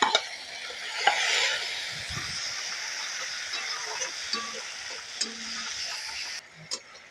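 Onion with ginger and garlic paste frying in a pan, a steady soft sizzle with occasional light clinks and scrapes of a spatula stirring, fairly quiet, with no talk.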